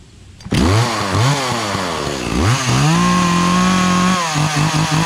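A free Echo CS-400 40cc commercial gas chainsaw with an 18-inch bar and a seized centrifugal clutch starts up loud and close, revving in several rising bursts before holding a high steady whine, then dropping back to a pulsing idle.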